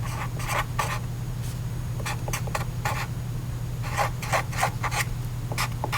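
A pencil sketches a graph on paper in short scratchy strokes separated by brief lifts, close and fairly quiet over a steady low electrical hum, with no talking.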